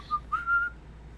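A person whistles a short tune close by: a brief note, a pause, then a longer rising and sustained note, clear against a quiet room.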